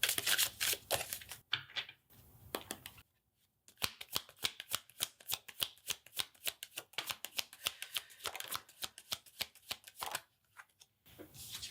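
Osho Tarot cards are shuffled close up in quick, riffling flurries of soft slaps and flicks, repeated in several bursts with short silent pauses between them.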